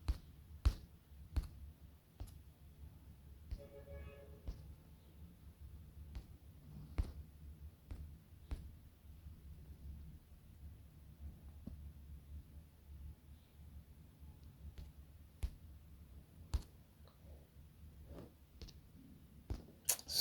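Computer mouse clicks, faint and sparse, tick at irregular intervals over a quiet, low background hum.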